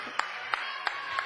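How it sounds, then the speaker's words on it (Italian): A few slow, sparse hand claps ring out at an Italian award ceremony, four distinct claps evenly spaced over a faint hum. "Bravissimo, un applauso."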